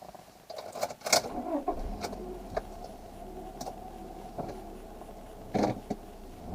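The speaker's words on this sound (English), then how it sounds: "Alright, this is a 2002 Honda Accord. Let's go for a little drive." Keys jingle and a few clicks and thumps sound inside a 2002 Honda Accord EX, then the engine turns over and settles into a low idle hum.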